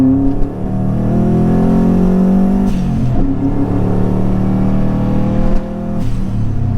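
Subaru WRX engine accelerating on an open road, loud and close, with a steady rising drone, two brief dips as it shifts gears, then a renewed pull.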